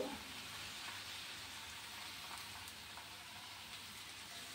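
Oil frying in a pan while cooking dhapate, a vegetable-based flatbread, giving a quiet, steady hiss and sizzle that goes on without a break and with no talk.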